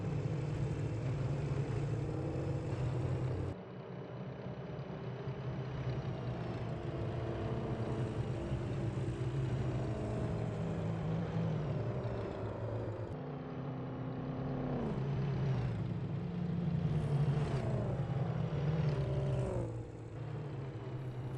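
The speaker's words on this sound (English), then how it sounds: "let's take a trip around the oval in these vintage cars" Vintage pre-war cars lap an oval circuit in the Assetto Corsa racing game, a steady loud engine drone with rising and falling revs and gear changes, several engines overlapping continuously without talk.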